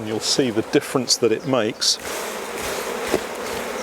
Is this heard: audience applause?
no